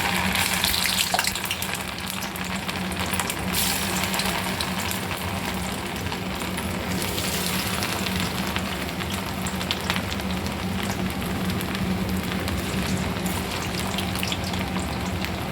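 Food fries in hot oil on a low flame, giving a steady crackling sizzle with scattered pops and occasional stirring noises that holds close and even throughout.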